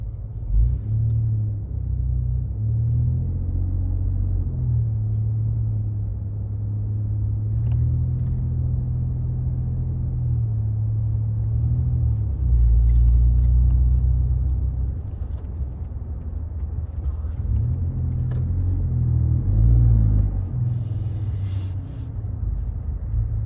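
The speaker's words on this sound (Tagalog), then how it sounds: "busy busy ang highway" Steady low rumble of busy highway traffic, cars passing continuously at a moderate distance, with swells as heavier vehicles go by around the middle and near the end; no talk.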